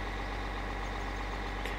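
A tractor in Farming Simulator 2013 sits idling, giving off a faint, steady low engine drone that holds even and unbroken throughout.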